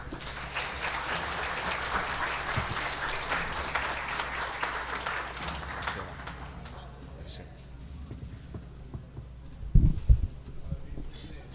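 Steady applause fills a municipal council chamber during a solemn session marking a town's 150th anniversary, dense for several seconds and then fading out, followed by quieter room noise and a few low thumps.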